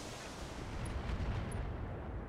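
Battletech mech weapons fire in a muffled, booming barrage, a faint, distant rumble that swells briefly in the middle.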